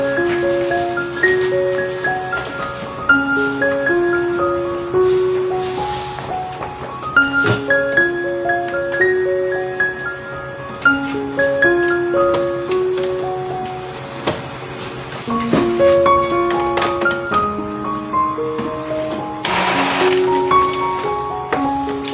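An Epson L210 inkjet printer printing, its motor whirring in shifting stepped tones as the head carriage moves back and forth, loud and close with clicks and taps between passes.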